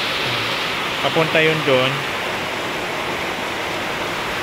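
Heavy rain pours down and water runs through a drainage channel dug to carry it away, making a constant hissing rush throughout while someone speaks briefly over it.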